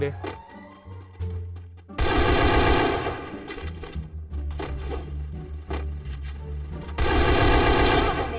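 Gunfire in the Free Fire battle royale game comes in loud, rapid automatic bursts, with a pause before each bursts out again, over game sounds and some talk.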